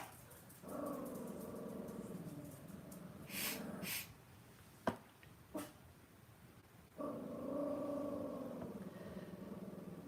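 A dog growls quietly indoors in two long, low, sustained rumbles separated by a stretch with a couple of sharp snorts or huffs. It stays close and soft throughout.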